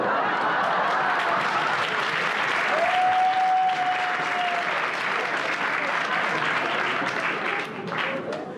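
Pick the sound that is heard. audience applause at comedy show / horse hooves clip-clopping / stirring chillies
audience applause at comedy show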